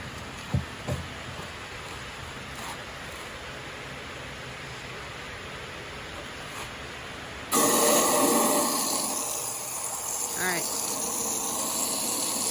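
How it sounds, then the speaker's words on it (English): Water gushes from a hose into a backpack sprayer, a steady hiss that jumps louder partway through after faint earlier knocks, close by and with no voices. "Now we're filling it with water."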